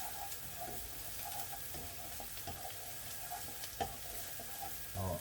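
Onions fry in a pan for a meatball pasta bake, giving a steady soft sizzle with occasional small pops and stirring clinks, close by and without talk.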